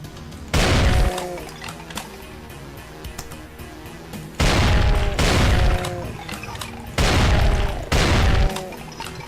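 Shotgun blasts and explosions in the video game Brutal Doom: several heavy, booming reports land in pairs, each ringing out with a short tail, over a steady low game soundtrack.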